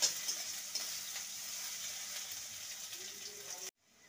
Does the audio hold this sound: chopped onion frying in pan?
yes